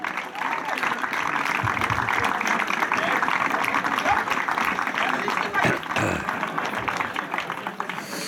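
Sustained applause and clapping from an audience at a Czech volunteer fire brigade competition in Chlum u Křemže, honouring the winning team; dense, steady clapping over crowd murmur for the whole stretch.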